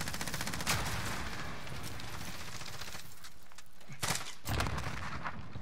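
Gunfire in a multiplayer shooter video game, with repeated loud shots and a few sharp bursts over a steady layer of game noise.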